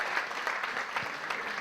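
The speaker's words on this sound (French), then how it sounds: "On peut à nouveau applaudir" An audience at a FinTech label award ceremony applauds FinTech label recipients with sustained, dense clapping at moderate volume, steady throughout and with no talk over it.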